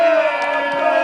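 A crowd at a car meet prize-giving cheers and whoops in a brief, loud burst.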